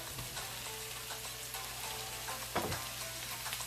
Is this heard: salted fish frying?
yes